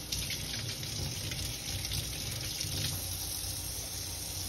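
Tap water streams steadily into a sink while shrimp are rinsed, a continuous close gushing splash at even loudness with no talk.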